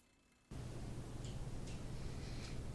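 A spray coat hisses onto an epoxy resin ornament on a woodturning project, a steady close broadband spray that starts abruptly after a brief quiet moment and runs continuously to the end.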